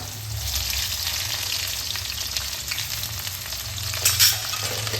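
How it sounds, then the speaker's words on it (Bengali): Chopped onion and green chilli fry in oil for a Bengali-style kalmi greens dish, producing a loud, continuous close sizzle with a brief clatter of stirring near the end and no talk. "পেঁয়াজটাকে একটু ভেজে নেব"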